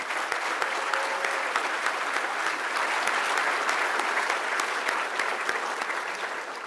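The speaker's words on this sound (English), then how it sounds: "Please stand, nominees, and get your applause" A crowd at a law enforcement officer awards ceremony applauds the nominees, a loud, sustained sheet of clapping from many people that fades a little toward the end.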